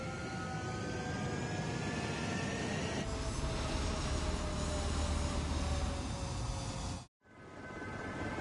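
Military jet roaring on takeoff in a combat flight game, a loud, steady engine howl with rising whine that swells, cuts out sharply near the end, then resumes.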